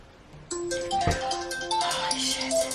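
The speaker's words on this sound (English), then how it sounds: "Hold on. Phone call." A mobile phone ringtone plays an incoming call, a bright electronic melody that starts abruptly and keeps sounding at moderate volume with no talking over it.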